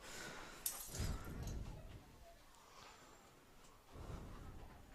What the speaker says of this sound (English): Was that a sound effect of the glass breaking?